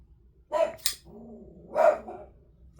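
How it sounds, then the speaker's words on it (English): Dog barking nearby indoors, two separate deep barks about a second apart, each short and clear above a quiet background. "Dog."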